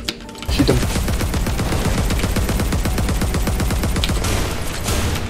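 Sustained rapid automatic gunfire in a video game, loud and close, with a fast, even rattle of shots running for several seconds after a brief quieter opening.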